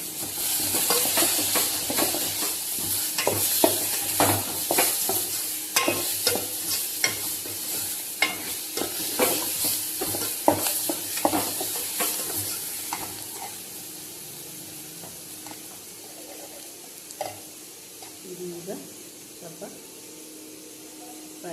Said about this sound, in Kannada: ಇನ್ನೂ ಒಂದೆರಡು ನಿಮಿಷ ಹೀಗೆ ಫ್ರೈ ಮಾಡಿ.